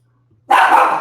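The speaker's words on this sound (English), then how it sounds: "I got a dog barking in the back" One sharp, loud dog bark bursts out suddenly from a back room. It follows a brief moment of near silence.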